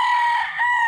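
A rooster crows loud and close at a gamefowl breeding farm, one sustained harmonic call held for almost a second with no talk over it.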